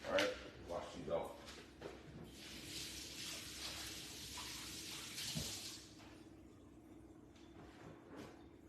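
Scotch bonnet peppers rinsed under a running kitchen tap, a steady broadband hiss of water that lasts several seconds alongside a few clinks and handling noises, with the water stopping near the end.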